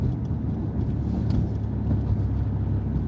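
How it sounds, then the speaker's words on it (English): A big-block OG Chevrolet Impala pulls away with a deep, steady low engine rumble heard from inside the car, mixed with road and wind noise. "And then I'm going to accelerate. This car is an OG Impala. It's got that big block in here."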